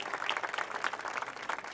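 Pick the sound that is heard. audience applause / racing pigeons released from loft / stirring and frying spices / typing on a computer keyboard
audience applause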